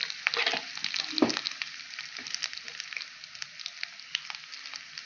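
Whole spices fry in a hot pan for polos moju, a crackling sizzle with sharp pops and a stirring clatter near the start, fading to a lighter steady crackle.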